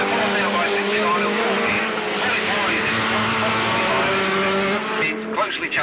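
Racing cars speed around the Alwalton track, a loud, continuous engine roar with steady droning tones that holds for several seconds before briefly thinning near the end.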